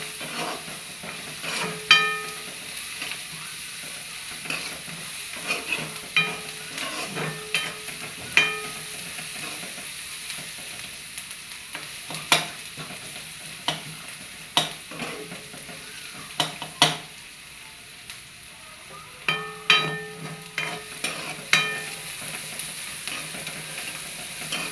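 Onion browning in a pan for phodnichi poli, a soft continuous sizzle with frequent scraping clicks of a spatula stirring, close and fairly quiet, with no talking.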